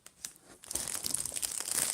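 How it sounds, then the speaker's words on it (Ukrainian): Adhesive tape being handled up close, a brief quiet rustle that builds into a steady crinkling and crackling, with no talk. "Скотч."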